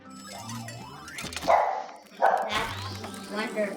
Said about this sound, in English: Buddy's barking